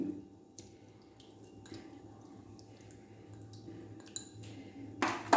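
Ash gourd water being poured into a spicy sandige mixture in a kitchen, a soft trickle with faint drips and light clinks, quiet and close, without talk.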